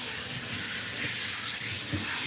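Running water rinsing a Ragdoll cat during grooming, a steady close hiss of flowing spray with faint low splashes, continuous throughout.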